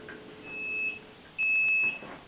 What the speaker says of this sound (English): And this is the timer again for another hour.